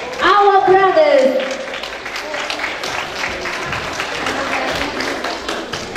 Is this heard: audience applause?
yes